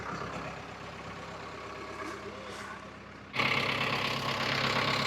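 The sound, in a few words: JCB engine idling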